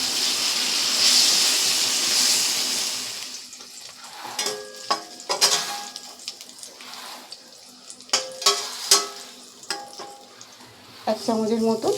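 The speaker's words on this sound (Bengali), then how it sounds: "নুন হলুদ দিয়ে পনিরটাকে ভালো করে ভেজে নিচ্ছি।" Paneer cubes frying in a pan with salt and turmeric, starting with a steady hiss that fades out, then a run of clinks and scrapes from stirring against the pan, all close and with no talking.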